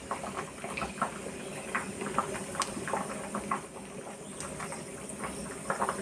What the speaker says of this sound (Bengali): এটা 5 ফোড়ন দিয়ে আমি তেলটা গরম করে নিচ্ছি।